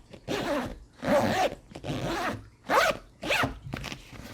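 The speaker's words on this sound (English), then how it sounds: "They make it so this one can be sleek and tucked away by having this zipper." A backpack's water bottle pocket zipper is pulled several times in distinct rasping strokes, each roughly half a second long with short pauses between, heard up close and clear with no voices.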